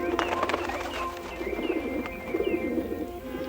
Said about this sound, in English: the birds.